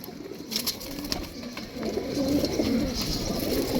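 Domestic pigeons coo in soft, low repeated phrases among a loft of birds, faint at first and growing fuller toward the end, with occasional wing flutters and light rustling but no speech.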